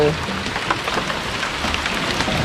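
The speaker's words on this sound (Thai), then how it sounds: "ฝนตกครับตอนนี้" Rain falls steadily during a river fishing trip on the Nan River in Thailand, a constant close hiss of drops with no break for the whole stretch.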